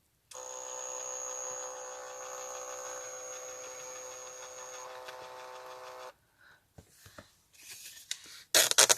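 A portable photo printer feeds paper and prints a picture, giving a steady mechanical whine with a high tone that runs for about six seconds. Brief handling clicks and rustles follow.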